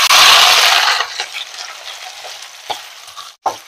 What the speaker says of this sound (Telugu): ఇప్పుడు ఈ ఆయిల్లో ఆనియన్ పచ్చిమిర్చి వేసుకుందాం.